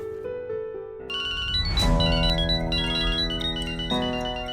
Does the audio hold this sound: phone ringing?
yes